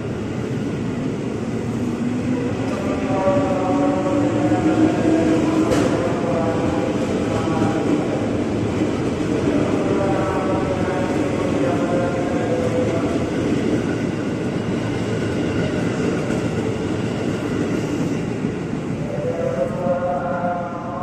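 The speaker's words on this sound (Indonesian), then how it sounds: "Rangkaian 10 kereta juga masuk jalur 2." A 10-car Series 6000 KRL commuter train rumbles steadily close by as it rolls into platform 2 at Manggarai station, with a long low roar, faint squeals and whines rising and fading above it.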